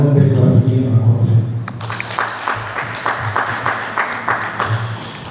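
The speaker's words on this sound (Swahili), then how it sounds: "niombe tuwapigie makofi" Audience applause for community business groups at a civic gathering in Dodoma city breaks out after a few seconds of a man's amplified speech, then continues as steady, dense clapping from a sizable crowd through the end.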